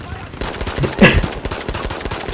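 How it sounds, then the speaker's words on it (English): Rapid pistol gunfire from a long-barreled P08 in a video game, one sharp shot standing out among quicker clattering reports, with someone talking underneath. "This is a pistol with a long barrel."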